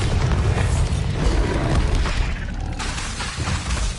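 In the Hogwarts Legacy video game, a Bombarda explosion spell lands as a loud, dense, rumbling blast that fills the whole clip. The burst settles into a crackling, debris-like tail with no voice over it.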